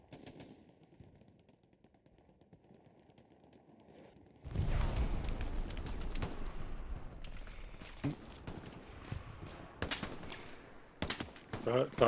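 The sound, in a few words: machine gun fire in Hell Let Loose video game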